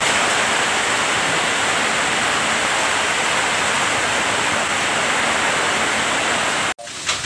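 Wind-driven rain pouring in through an open window of a house in the Philippines, a loud, dense, steady hiss and roar filling the whole clip before cutting off abruptly near the end; no talk.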